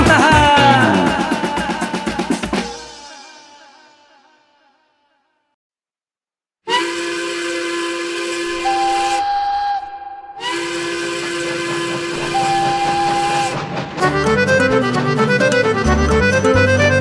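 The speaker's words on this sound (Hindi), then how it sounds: "छुक छुक करती रेल आती" Steam train sound effect in a Hindi children's song: a loud clattering chug that fades to silence, then sustained whistle tones with sliding pitch, followed by rhythmic musical accompaniment, close and prominent.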